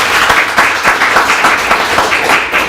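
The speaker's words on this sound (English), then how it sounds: "So give Michael a round of applause." A sales meeting audience applauds a colleague named Michael, a short burst of fairly loud clapping with distinct uneven claps.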